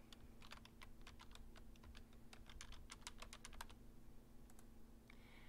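Rapid clicking of computer keys in quick irregular bursts, close and fairly quiet, over a low steady hum, with no talking.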